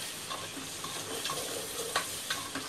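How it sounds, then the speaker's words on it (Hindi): Tomato puree sizzles in a hot pan for a chicken Moradabadi biryani, with a steady low fry and a few sharp scrapes and clicks of a spoon stirring it, close and alone. "इसको भी अच्छे से भुनेंगे, हाँ ये 2 चम्मच भर के टमाटर प्यूरी लिए।"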